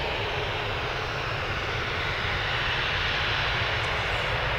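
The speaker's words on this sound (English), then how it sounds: "next up then we've got this Jet 2 Boeing 737-800, registration GJZBT going to Tenerife" A Jet2 Boeing 737-800 at Manchester Airport roars with a loud, steady jet engine drone, broad and unbroken throughout, with no voices.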